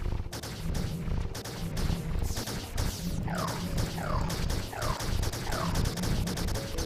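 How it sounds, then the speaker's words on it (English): Rapid repeated weapon fire in Terraria from a homing laser beam gun, a dense stream of sharp zaps and crackling hits with short descending sweeps recurring roughly every half second, loud and steady throughout. "Those are the laser beams."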